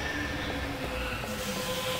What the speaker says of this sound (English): Okay, we're going to step on the train.